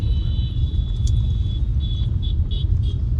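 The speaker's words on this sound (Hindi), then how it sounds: "थोड़ा सा वॉइस ज़्यादा हो रही है गाड़ी के बैक साइड में" A car drives along a road in Delhi with a heavy low rumble from the rear, a steady droning roar, and a thin high whine that pulses on and off above it.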